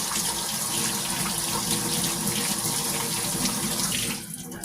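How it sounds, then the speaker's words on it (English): Warm water runs steadily from a kitchen tap in a continuous broadband hiss and splash, constant for several seconds before shutting off near the end. "I gotta turn on the warmer water"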